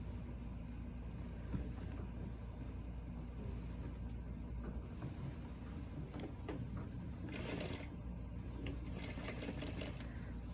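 A sewing machine runs steadily, stitching 1/2 inch shoulder and side seams on a princess-seam garment sample, with a continuous mechanical whir and a faint rhythmic clatter that briefly brightens partway through.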